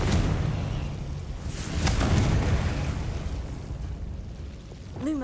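A Confringo fire spell explodes in Hogwarts Legacy, a dense, rumbling blast that swells and lingers for several seconds, with a whooshing layer over steady game noise.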